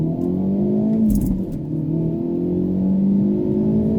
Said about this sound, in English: let's do a little 0 to 60 in 3